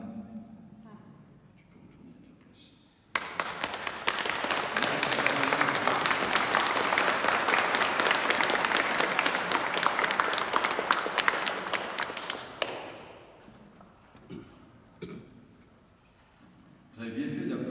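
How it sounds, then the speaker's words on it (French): Applause in a Catholic church during a baptism ceremony, a sustained burst of clapping from the congregation lasting about nine seconds, with a voice talking quietly before and after it. "Vous avez bien fait d'applaudir."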